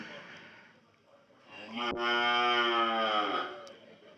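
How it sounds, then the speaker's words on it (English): A cow at a livestock auction gives one long, loud, close moo that swells and fades over about two seconds, after a quiet stretch. "Listen to what the cow says."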